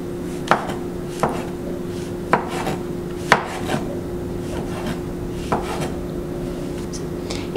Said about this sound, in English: lay this half down so that it doesn't roll and begin slicing